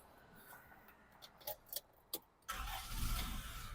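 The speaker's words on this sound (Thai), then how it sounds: "ฟังเสียงเครื่องยนต์กันนะครับ" A few mechanical clicks, then a Honda City Type Z car engine cranks and catches, settling into a steady, close idle rumble.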